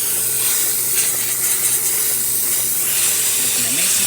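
A steady, fairly loud hiss of steam jetting from a DeLonghi Specialista espresso machine steam wand, continuous throughout with a faint low hum underneath.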